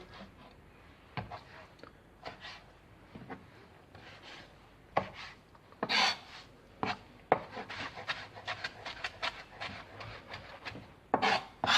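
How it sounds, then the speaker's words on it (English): A kitchen knife roughly chops rehydrated porcini mushrooms on a board, giving close, irregular thuds and scraping strokes in bursts, some quicker runs toward the end, no talking. "We're now going to roughly chop the porcini a little bit."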